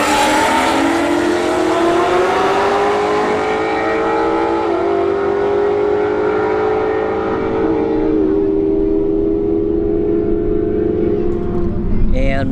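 Roush Stage 3 Mustang and Camaro SS drag racing at a motorsports park, loud sustained engine roar with rising pitch and two brief drops at gear shifts, heard over continuous track noise.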